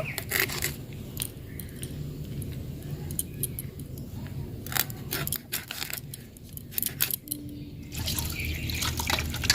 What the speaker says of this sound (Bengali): গোটা মাছটা আগে ধুয়ে নেব পরিষ্কার করে।